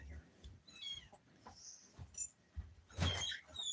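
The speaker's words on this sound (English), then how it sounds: "What are you doing, kittens?" Kittens meowing indoors, a few thin, high-pitched mews scattered among soft rustling and handling noises, close and fairly faint, with a person talking quietly nearby.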